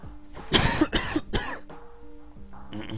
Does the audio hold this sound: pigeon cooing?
no